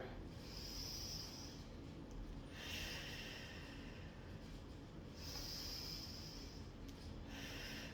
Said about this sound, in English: We're going to have 2 more big breaths here.